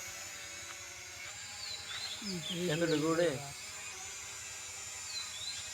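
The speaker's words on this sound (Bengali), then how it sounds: "ড্রোনটা উপরে গেছে" A newly unboxed drone climbs into open sky with a steady high whirring whine that holds throughout, while a person speaks briefly over it midway.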